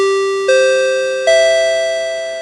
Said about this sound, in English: Let's ring those annoying chimes.